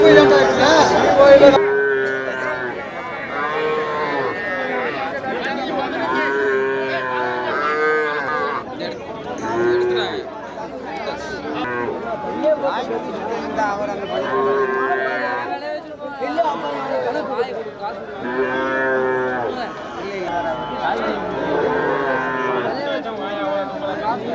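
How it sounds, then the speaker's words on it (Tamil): Cattle at a busy livestock market in Melur, repeated loud moos rising over steady crowd chatter and bargaining voices throughout. "இது வண்டி மாடா வண்டி மாடா"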